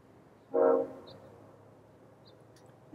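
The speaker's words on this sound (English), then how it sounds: "Maybe you hear that distant train whistle." A distant train whistle sounds once as a single short blast, faint over a quiet room background, followed by near silence.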